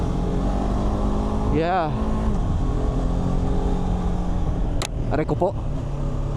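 A BMW F450GS motorcycle hums with a steady, continuous engine and road drone while being ridden, under close, ongoing talk from the rider.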